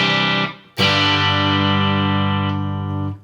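A Fender American Standard Stratocaster electric guitar played clean through its bridge pickup: a short note, then a loud, bright sustained chord ringing steadily for over two seconds before being cut off, with no talking.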